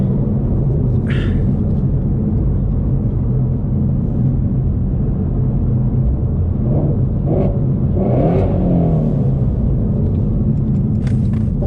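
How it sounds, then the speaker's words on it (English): A Ford Shelby GT350 rumbles with a steady low engine drone, swelling briefly in a few short revs partway through, heard from inside the car with no talking. "there's no other car out there that drives like this car and that sounds like it"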